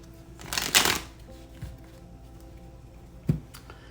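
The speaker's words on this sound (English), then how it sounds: "Shuffle." Tarot cards are shuffled close up, with a loud riffle burst near the start, a softer flick in the middle and another sharp snap toward the end over a faint background hum.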